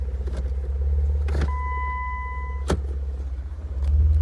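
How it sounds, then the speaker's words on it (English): A Jeep JK Rubicon climbs an off-road trail in 4 high, its engine a steady low rumble throughout, with a couple of brief clanks and a short tonal whine partway through. "Jeep's driving really well, considering I haven't even aired down the tires."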